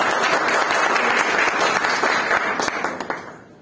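A crowd applauds loudly and steadily, dense clapping that fades out toward the end.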